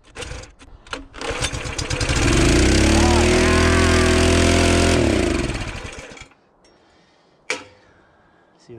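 A big-box store wood splitter's small gas engine cranks and catches, roaring loudly for several seconds before dying off, with short bursts of talk before and after and a sharp sputter near the end.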